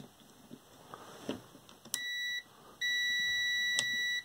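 A multimeter sounds its continuity beep while probing the switch terminals of a DeWalt D28402 angle grinder, giving two steady high electronic tones, the second longer, after a few faint clicks.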